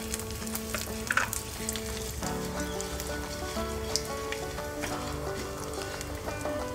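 Urad dal and cut red chillies fry in hot oil in a pan while being stirred, a continuous close sizzle broken by scraping and clinking stirs, with no talking.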